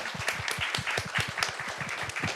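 Audience applause closing a film-themed talk event, a steady patter of many hands clapping in even rhythm, moderately near and alone for a couple of seconds.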